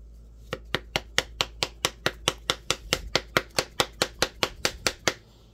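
A steak knife hacks repeatedly against heavy-duty protective gloves, about twenty sharp, evenly spaced strikes in a quick steady rhythm, loud and close with nothing else heard.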